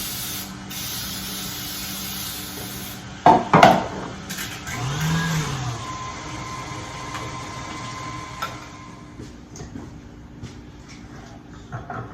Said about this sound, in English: We'll spray the pan.